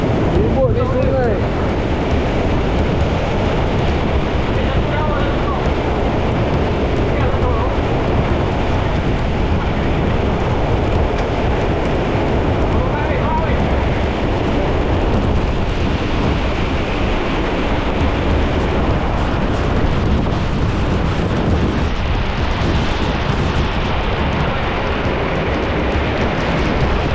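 Storm wind roars steadily over a river, with broad rushing noise and buffeting against the microphone throughout, constant and loud, with no clear breaks.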